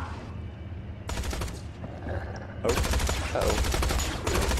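Rapid bursts of video game gunfire from Tales from the Borderlands come in several loud, close volleys separated by short gaps, with a brief exclamation from a voice between them.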